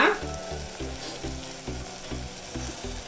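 Hyacinth beans being added to an onion, tomato, garlic and green chilli masala fry with a steady, loud sizzle, broken by rhythmic scraping stirs of the pan. No one speaks.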